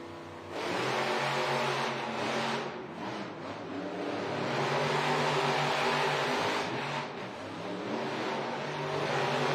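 Monster trucks Scooby-Doo and Gravedigger race at a Monster Jam arena event in Tucson, engines roaring and revving hard with surging rises and dips, the loud mechanical growl filling the space.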